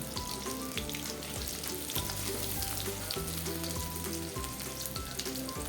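Chopped onion and garlic frying in hot oil for chicken tehri, a dense continuous sizzle and crackle close by, steady and loud throughout with no talking.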